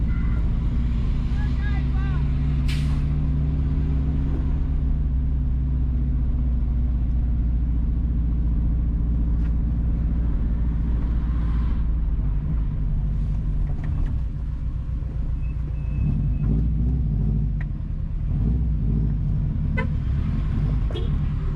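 A car drives north along Rectory Street in Port Maria, Jamaica, with a steady close engine and road rumble throughout and a short horn toot early on.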